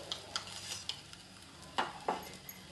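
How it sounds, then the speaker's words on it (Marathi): Ghee drizzled over an aloo paratha on a hot tawa sizzles faintly and steadily, with a few sharp spatula scrapes and taps close by and no voices. "आता वरून पण तूप सोडते."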